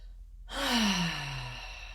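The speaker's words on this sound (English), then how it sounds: "Take another big breath in." A single deep sigh-like breath during a meridian tapping session, a sharp onset swelling into a long breathy exhale with voiced tone, close to the microphone.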